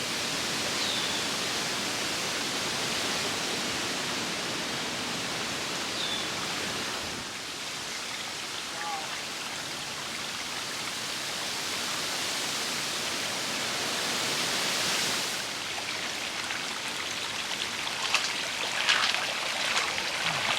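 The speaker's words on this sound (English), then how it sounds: "And the water is flowing." Water rushes steadily down a newly built backyard koi pond stream, a constant close splashing hiss that dips briefly and then continues, with a few small trickles near the end.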